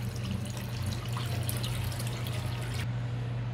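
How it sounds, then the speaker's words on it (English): Aloe being washed in water gives a continuous splashing and trickling wash over a steady low hum, unbroken for the whole stretch and cutting off sharply near the end. "Just scooping all this here, all the good stuff, and then we continue washing this out."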